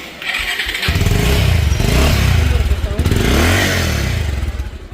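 A used motorcycle engine cranks and fires up, then settles into a loud, near, throbbing idle with some revving swells; a voice speaks over it.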